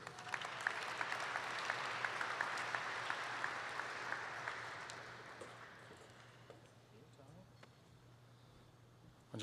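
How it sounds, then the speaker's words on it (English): Audience applause at a university athletics hall of fame ceremony, a dense round of clapping that gradually thins and fades out, with some faint voices near the end. "I'll give Tony a nice round of applause."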